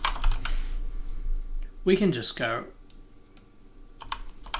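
Clicky typing on a computer keyboard with scattered keystrokes at the start and end, while someone speaks briefly in the middle.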